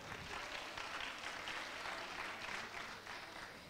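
A school's delegation at a 2023 voice festival draws steady audience applause, dense and even clapping that holds without a break across the whole stretch, with faint crowd noise mixed in.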